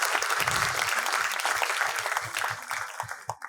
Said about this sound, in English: let's have a huge round of applause for all the 4 panelists